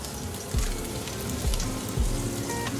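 Steak fried rice sizzling steadily in a hot pan as an egg is cracked in, with a few soft low thumps over the constant crackle; no talking.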